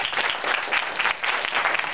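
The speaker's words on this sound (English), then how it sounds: "we could encourage Agile properties to continue this with a big round of applause" Steady, dense audience applause at an academic closing ceremony, many hands clapping together loudly and continuously with no talk over it.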